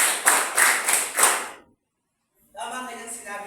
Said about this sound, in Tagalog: Mahusay, bigyan din natin siya ng limang palakpak.